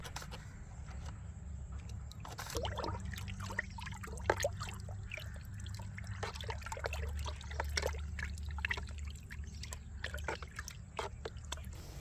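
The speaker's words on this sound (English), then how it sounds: "Add 50 grams of baking soda in 10 liters of water and mix them together to" Baking soda is stirred into a large batch of water, about ten liters, for a garden spray. The water trickles, sloshes and splashes softly and irregularly over a quiet low rumble.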